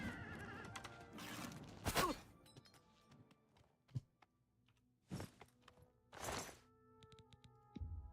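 A horse in the game Oblivion gives loud whinnying neighs, with a few thuds, hoof clops and a snort between calls, close and alone with no talk.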